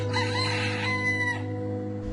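A rooster crows once, a close, strained, wavering call that trails off after about a second and a half over a steady low hum.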